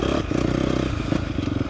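A 2024 KTM 250 XCF dirt bike engine lugs at low revs in third gear on an offroad trail in Texas, a close, loud, chugging throb with rattling clatter, in one short burst.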